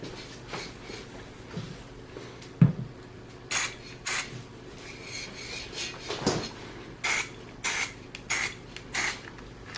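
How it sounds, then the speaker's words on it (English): Short hissing bursts from a spray can, several in an uneven rhythm, with a sharp clack early on and a faint hum underneath. "You're gonna spray it later anyway."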